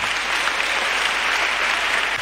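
A church congregation applauding: dense, sustained clapping from many hands at a steady, loud level, with no break or fade.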